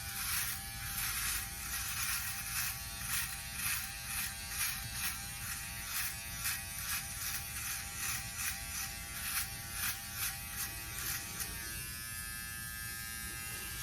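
A Norelco OneBlade electric trimmer buzzes steadily and close up while shaving off a goatee, its motor hum pulsing rhythmically as the blade strokes through the hair, with no talking.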